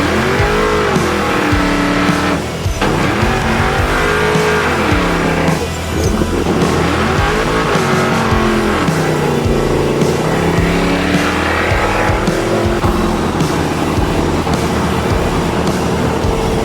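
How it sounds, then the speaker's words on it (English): A 1969 Camaro hot rod doing a burnout: loud, close engine roaring and revving in repeated rising and falling surges, with screeching tires, sustained without talk. "You want a burnout right here?"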